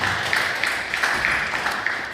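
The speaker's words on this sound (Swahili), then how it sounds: "Naomba tujipige makofi" An audience claps together at a district council gathering in Kasulu, a steady patter of many hands filling the whole stretch with small bursts of louder claps.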